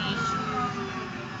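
A fire engine siren wails steadily with a sustained tone under a low rumble, as a fire station crew responds to a 911 call about a cyclist crash.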